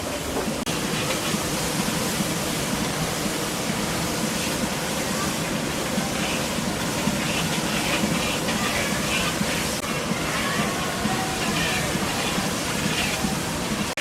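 Cabbage cooking in a pan with spices: a loud, continuous hiss and sizzle runs unbroken throughout, with a voice faintly present beneath it.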